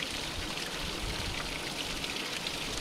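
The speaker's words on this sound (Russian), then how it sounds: "Под водопад горячей водой." Hot spring water pours steadily from a small waterfall, a continuous soft hiss and splash heard alone and fairly faint.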